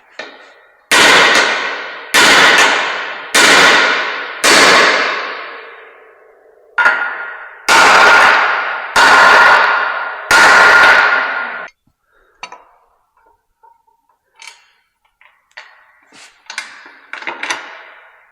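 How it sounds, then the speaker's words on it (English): A hammer beats bent metal flat after a large fire: eight loud, ringing strikes in two groups of four, each decaying with echo, followed by faint scattered clinks. "I need to take a hammer real quick and beat that flat"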